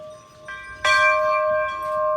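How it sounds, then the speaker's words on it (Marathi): A temple bell rings out with a bright metallic strike, its tone ringing and sustaining, a softer earlier tap before it, close and clear. "अशा प्रकारे घंटा वाजवली आहे"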